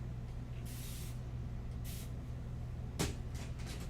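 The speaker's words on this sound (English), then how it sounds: "We go ahead and spray some of this black." Black spray paint sprayed onto an acrylic and watercolor mixed-media painting, several short soft hissing bursts from the can over a quiet room background.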